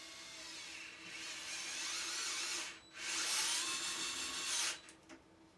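A power drill whirs as it drives a screw into a hole while network gear is being replaced, a moderate high whine that runs steadily, pauses briefly, then resumes before stopping.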